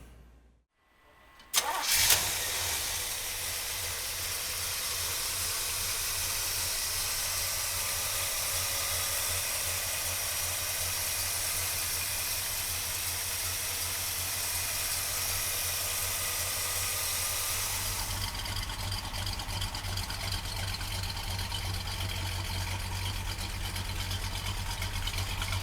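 A 1965 Pontiac GTO engine cranks and catches after a short quiet moment, then settles into a loud, steady idle whose low rumble deepens near the end.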